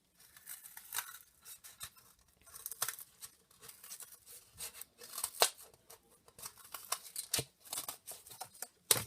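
Scissors cut material to make bread for an 18-inch doll sandwich, giving irregular close snips and light crinkly rustles throughout.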